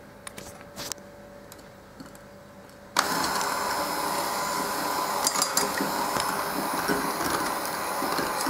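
Electric mixer whisking 70 grams of sugar for the batter of an Angel Tears cake, switching on abruptly after a quiet start and then whirring steadily and loudly at low speed.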